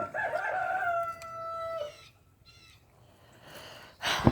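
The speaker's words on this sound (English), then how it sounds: "how to make the rooster stop that racket" A rooster crows loudly and close by, one long drawn-out call that fades into quiet, followed by a short burst of rustling noise.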